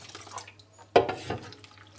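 Water poured from a tap onto yeast to dissolve it for a Turkish village bread dough, a short splashing burst near the middle, close by and fairly clear, with quiet room sound around it.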